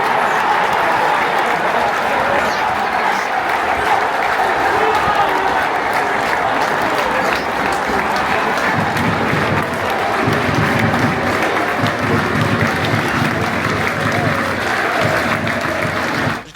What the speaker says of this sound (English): See Doncaster fans applauding through that goal. A minute's applause to someone who's obviously lost their life that's close to the club.